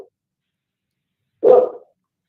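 Neighbor's dog giving a single short, muffled bark from a distance, alone in otherwise near silence.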